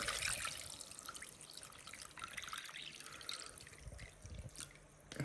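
Mixed curing brine poured over pork knuckle for curing, a steady close trickle and splash of liquid running continuously without talk.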